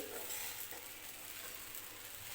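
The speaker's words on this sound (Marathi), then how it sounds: "बटाट्यासोबतच आता हा भाजून घ्यायचा आहे व्यवस्थित" Sabudana pearls and potato pieces roasting in a pan for khichdi, a soft continuous sizzle with faint scraping of a spoon stirring through them, fairly quiet.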